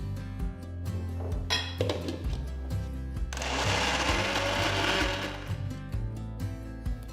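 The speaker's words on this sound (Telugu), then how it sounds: "ఇంకొంచెం పప్పు వేసి మళ్ళీ రుబ్బాలి" An electric grinder grinds lentil batter, whirring and rumbling with a steady motor hum, its pitch shifting as the load changes, then a denser grinding roar mid-way.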